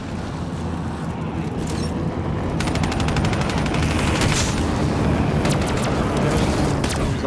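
Gunfire and explosions in Black Ops 3 Zombies on the Zetsubou No Shima map, rapid automatic bursts and booms crackling continuously and loudly throughout.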